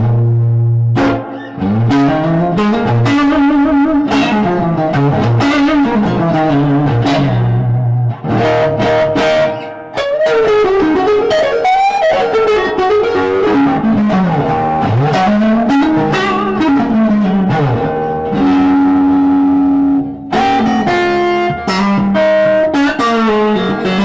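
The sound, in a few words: guitar through tube amp with splashy reverb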